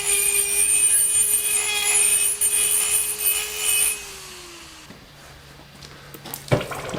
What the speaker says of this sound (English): Little die grinder cleanup, just makes the handling so much nicer.